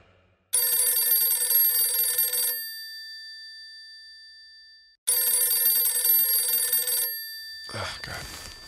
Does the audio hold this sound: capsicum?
no